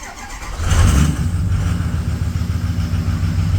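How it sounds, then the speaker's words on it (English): Ford 6.0 Power Stroke diesel engine cranking, then catching and settling into a loud, steady rumbling idle, close by, after the cab reinstall, with no voices. "we'll just keep cranking until we start building oil pressure up"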